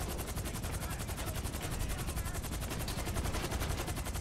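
Rapid continuous automatic gunfire in GTA 5, a dense steady rattle of shots lasting the whole few seconds at moderate volume, with no talk.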